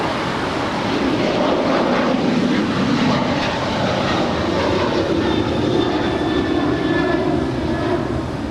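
An ANA Boeing 777-300ER arriving at LAX from Tokyo Narita, a steady broad jet roar holding loud and even throughout with no voices.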